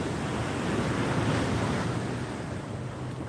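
Ocean surf washes steadily onto a Florida shore, a broad continuous roar of breaking waves mixed with buffeting wind on the microphone, loud and close, with no voices.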